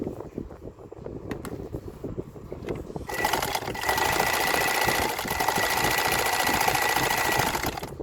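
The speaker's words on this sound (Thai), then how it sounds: "เย็บตรงให้ดูนะครับ" A Janome zigzag sewing machine stitches a straight seam through four layers of fabric, its motor starting softly and then settling into a loud, steady, fast whirring drone that runs on continuously without pause.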